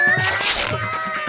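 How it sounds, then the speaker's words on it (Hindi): A cat caught in a net gives a drawn-out, wavering meow, close and fairly loud, with music or background sound under it. "भैया वहाँ देखो, प्यारी सी बिल्ली जाल में।"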